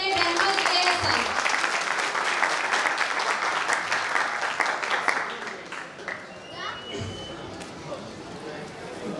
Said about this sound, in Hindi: आप लोग की जोरदार तालियों में रहमान साहिब